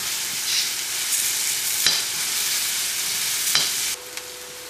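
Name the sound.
onions being sautéed in a pan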